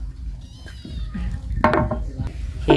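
A cat being readied for a bath in cold weather meows in short plaintive bursts, close by, with faint clinking of dishes and light handling noises around it.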